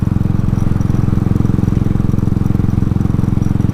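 A Royal Enfield motorcycle fitted with a 19-tooth front sprocket, riding out toward a Tasmanian highway, its single-cylinder engine giving a loud, steady, even thump throughout, close up, with no voices.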